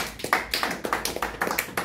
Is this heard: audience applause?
yes